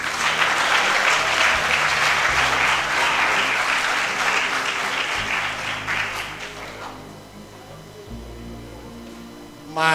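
Audience applause fills the hall, loud and dense at first, then thinning out and fading into room hum.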